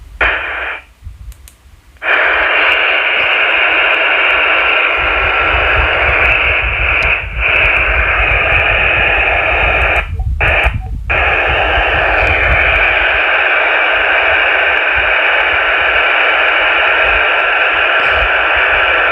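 Eracom handheld two-way radio with the squelch opened, giving a loud, steady hiss of static that runs nearly the whole time, with a couple of brief dropouts near the start and middle.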